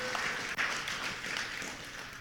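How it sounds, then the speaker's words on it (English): Audience applause fills a conference closing ceremony hall, a dense, steady wash of many hands clapping continuously for about two seconds, with one brief dip partway through and no talk over it. "Let's just give a round of applause for all the people that came."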